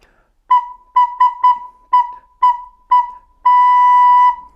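A recorder plays seven short, evenly pitched notes, each started crisply with the tongue, then one longer held note on the same pitch. The tone is clear and close, with no talking.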